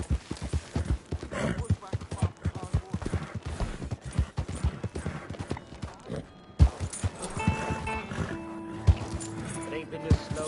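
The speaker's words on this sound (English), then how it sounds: "Might have got some horses." Horse hooves clip-clop steadily in a Western-style PS4 video game, a run of repeated, fairly close footfalls with some game sounds layered over them and growing busier toward the end.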